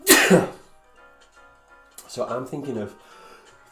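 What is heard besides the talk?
sneeze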